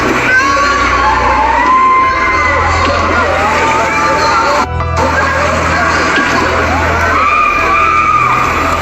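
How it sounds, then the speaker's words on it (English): Loud, continuous crowd noise at a fatal shooting scene in Chicago's Near North area, with overlapping high screams and shouting voices sustained throughout and one brief dropout midway. "They screaming"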